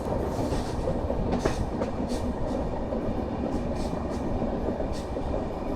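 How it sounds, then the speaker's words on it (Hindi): A Vaishali Superfast Express hauled by a WAP7 electric locomotive rounding a curve gives a steady, loud rumble of rolling coaches, with faint rhythmic wheel clatter over rail joints throughout and no voices. "Vaishali superfast express WAP7 locomotive के साथ।"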